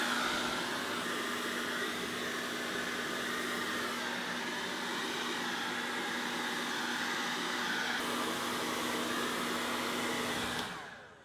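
A hair dryer blows steadily across runny acrylic pour paint, a close, loud, even whooshing hum with a constant motor whine that runs without a break before cutting off at the end.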